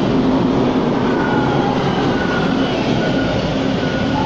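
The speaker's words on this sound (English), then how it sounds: "we see an eastbound train of our T1 subway." A Toronto T1 subway train passes through St. George Station, a loud, continuous roar of rolling wheels and rail noise filling the platform with faint high squeals.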